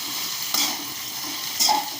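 Mixed vegetables are stirred and sautéed in a pan, giving a soft steady sizzle with two brief scraping stirs.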